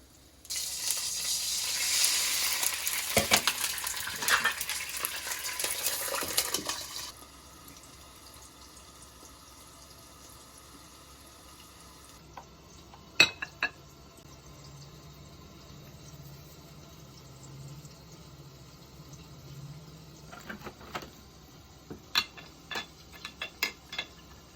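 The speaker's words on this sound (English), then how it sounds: "I'm going to cook these for about 3 minutes until they're golden on the bottom, and then I will add in the water, pop the lid on and steam" Gyoza sizzle in a hot pan, then water poured in hisses loudly into a burst of steaming for several seconds before settling to a quieter simmer with occasional clinks.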